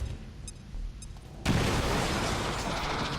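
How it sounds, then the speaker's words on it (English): A grenade bursts in XCOM 2, a sudden loud boom partway through that gives way to a sustained roaring, crackling blast, after some quieter game ambience with faint tonal blips. "So I go ahead and decide to open up on them with a grenade"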